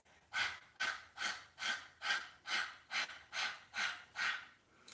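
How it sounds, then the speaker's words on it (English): Kundalini yoga breath of fire done by panting with the tongue out: about eleven quick, evenly spaced breathy huffs in a steady rhythm, close and fairly soft, with no talking. "sticking your tongue out and panting like this"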